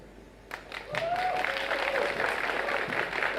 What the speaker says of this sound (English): Yeah, the crowd enjoying that one.